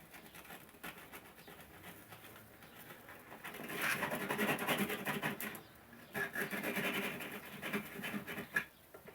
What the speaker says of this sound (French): je vais gratter un tout petit peu la cosse déjà pour enlever un peu la merde